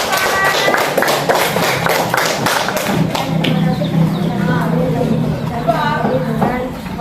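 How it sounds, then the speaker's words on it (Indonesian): Students applauding a group in a classroom after a mango juice demonstration, a burst of quick claps over the first three seconds, then fading into chatter and voices. "beri tepuk tangan untuk kelompok"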